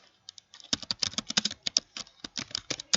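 Fast typing on a computer keyboard while entering router configuration commands, a dense burst of close, crisp key clacks in quick irregular runs with short pauses, and no voices.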